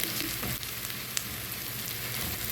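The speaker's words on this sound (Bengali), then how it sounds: "পেঁয়াজটা আমি বাদামি করে ভেজে নেব" Chopped onion with garlic and turmeric fries in oil until browned, a faint, even sizzle with a few soft stirring sounds and small ticks, no voices.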